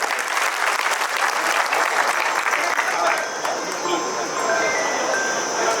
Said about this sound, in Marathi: त्यांच्यासाठी आपण जोरदार टाळ्या वाजवल्या पाहिजे बांधवांनो.